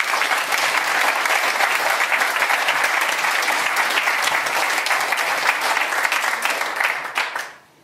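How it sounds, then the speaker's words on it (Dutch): A conference audience gives sustained applause at an education event, with dense clapping holding steady for several seconds before fading out at the end. "Geef haar even een applaus."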